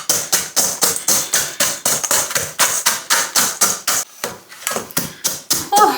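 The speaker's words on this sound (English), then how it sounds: "I just need to finish bashing up my biscuits." Biscuits being bashed into fine crumbs for a cheesecake base, a rapid, steady series of loud, close thumping blows that falter briefly then resume.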